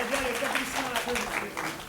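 An audience at a formal gathering applauds a speaker, with dense, steady clapping filling the short stretch while a voice carries on over it.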